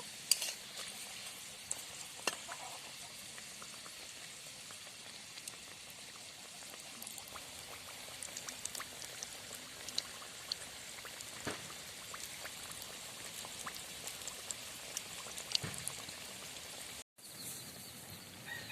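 Steady oil sizzling and crackling from khasta singara pastries deep-frying until reddish-brown, with small pops and scrapes throughout and a brief dropout near the end.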